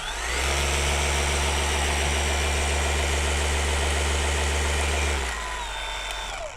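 A dual-action car paint polisher runs at full speed, giving a loud, steady motor whine with a strong low hum that holds evenly for about five seconds before dropping off sharply near the end.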